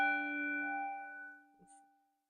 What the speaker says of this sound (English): Just follow the sound of the bell.